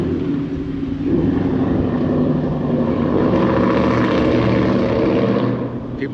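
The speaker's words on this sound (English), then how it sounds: "People just love to show off their exhaust pipes." A loud car exhaust passes by in a windy park, a broad roar that swells quickly, holds strong for several seconds, and then fades as the car moves away.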